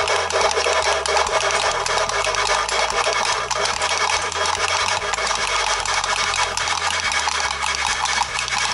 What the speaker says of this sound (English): When you turn the handle, you'll hear it be noisy and then it'll get quiet when it gets nice and smooth.